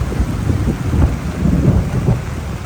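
A rainstorm in Wagga Wagga with deep, rolling rumbles of thunder over a steady rush of rain, loud and continuous.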